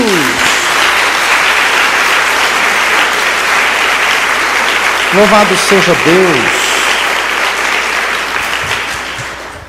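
A church congregation applauding: loud, dense clapping from a large crowd continues throughout, with a voice calling out over it midway.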